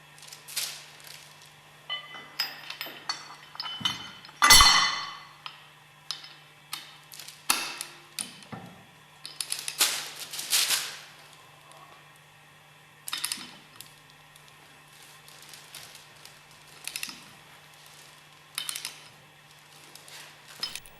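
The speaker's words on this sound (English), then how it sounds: "Screw the hex head screw into the motor shaft end and firmly tighten." A hex head screw is tightened into the end of a motor shaft while assembling a Westfalia OSD18, giving scattered small metallic clicks and clinks over a low, steady hum.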